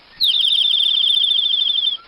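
A small bird gives a rapid, high-pitched trilling chirp, steady and fairly loud, lasting about two seconds before stopping abruptly, with no talking over it.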